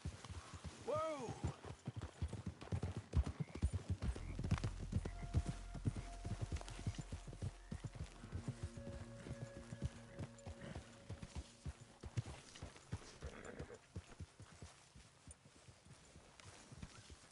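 A horse's hooves clip-clop in a quick, steady rhythm throughout. A brief voice calls out near the start, and a low rumble swells in the middle.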